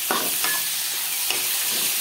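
Onion and tomato sauté in a pan for a village-style tomato chutney, with a close, steady sizzle broken by a few sharp scraping stirs of a spoon.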